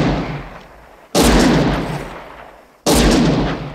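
Two loud gunshots ring out in a scene from a Clint Eastwood western, each a sharp close blast followed by a long decaying echo, spaced a little under two seconds apart with no speech.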